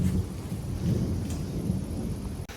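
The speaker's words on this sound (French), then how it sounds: "Je sais pas si vous entendez l'orage." Thunder rumbles low through a summer thunderstorm with light rain falling outdoors, a sustained deep rolling growl with soft rain patter, moderately distant, no talking.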